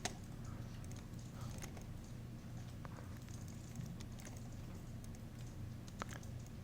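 Computer keyboard keys are tapped in soft, irregular clicks over a low steady hum, quiet and close, with no voices.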